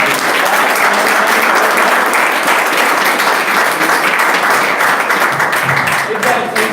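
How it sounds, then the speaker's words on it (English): An audience at a water-quality presentation gives a round of applause, loud, dense and sustained clapping from a large group that carries through the clip and eases slightly near the end. "let's give them a round of applause"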